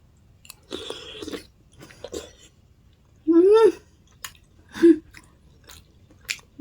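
Someone chews a bite of a taro, sugarcane and chestnut dessert up close, giving several soft crunchy bites and wet chews in short bursts separated by quiet pauses, with brief vocal sounds between them.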